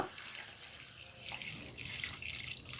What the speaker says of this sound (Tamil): இப்போ இந்த கடாயில நம்ம 1/2 லிட்டர் தண்ணி சேர்த்துக்கலாம்.